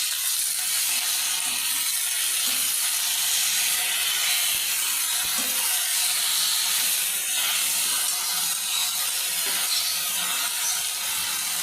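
Boiled jute leaves dropped into hot oil with fried chilli, onion and garlic give a steady broadband sizzle and steamy hiss that holds evenly at moderate level throughout, with no voices.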